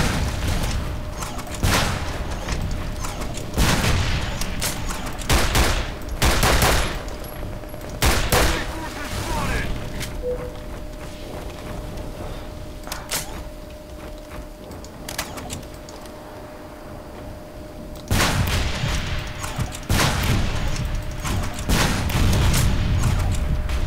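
Rapid bursts of gunfire in the online shooter Nuclear Dawn, loud volleys of automatic fire repeating in clusters with brief lulls between them, under a steady background hum across the whole stretch.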